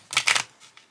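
A deck of tarot cards being shuffled, two quick riffling bursts up close followed by softer light flicks, with no talking.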